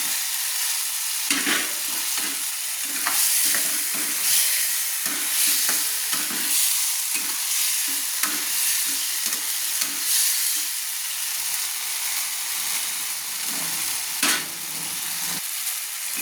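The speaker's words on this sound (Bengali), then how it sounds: "আলুটা আমার মশলার সঙ্গে কষানো হয়ে গেছে।" Pre-fried potatoes stirred into a spice paste in a pan for a cauliflower fish curry: steady close sizzling, broken by repeated scraping stir strokes, with no talking.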